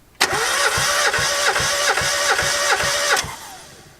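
An engine cranks over at full throttle during a dry compression test, giving a steady, loud run of about eight even, rhythmic compression pulses before it stops and the sound fades.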